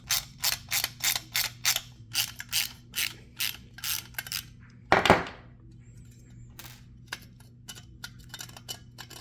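A socket wrench with an 8mm socket ratchets quick nuts off a car speaker on a workbench, about a dozen crisp clicking bursts in steady rhythm, then a louder clank and scattered faint ticks over a low hum.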